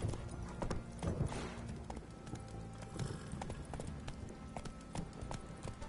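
Horse hooves clip-clopping at a gallop in the video game The Witcher 3 on PS4, a steady rhythmic beat of hoof falls with an occasional whinny, moderately loud throughout.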